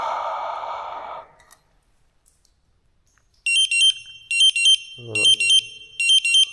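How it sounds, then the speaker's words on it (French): A gas detector in an abandoned mine sounds its alarm after being breathed on, raising its CO2 reading: a breathy exhale first, then loud, rapid repeating electronic beeps in regular bursts, with a brief spoken word partway through. "on m'a demandé ce que ça faisait d'entendre l'alarme du détecteur de gaz"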